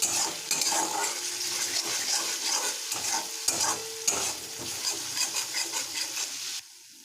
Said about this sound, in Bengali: মশলাটা আমি ভালো করে কষে নিয়েছি